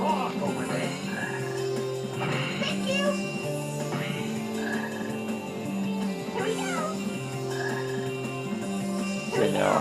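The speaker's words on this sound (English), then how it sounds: "Almost ran into a frog then." Frog croaks in the Sonic Heroes video game, a few croaks recurring over steady game music and effects, moderately loud throughout.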